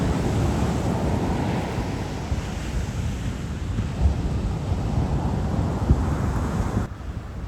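Atlantic ocean waves roll onto the beach at Bethany Beach, Delaware, a dense, continuous surf roar mixed with heavy wind buffeting the microphone.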